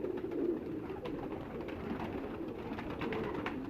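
Pigeons coo steadily in a fancier's loft, soft repeated throaty calls blending into a continuous low murmur that stays fairly quiet and even throughout.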